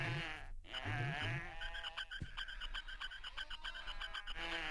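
Little one-legged sheep creatures in Oddworld Munch's Oddysee bleat in a run of nasal, wavering calls, several overlapping bleats close by, loud and alone.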